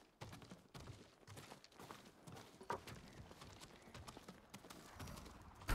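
Horse hooves clip-clop on the ground in the samurai game Ghost of Tsushima, an uneven series of soft thuds and knocks at moderate distance with rustling movement around them.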